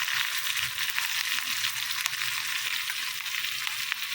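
Ginger, garlic and a little green chili frying in a black iron pan give a steady, dense sizzle that holds at an even level throughout, with faint crackles and no voices.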